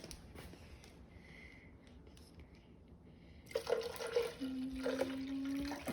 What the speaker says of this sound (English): now I'm gonna pour some more distilled water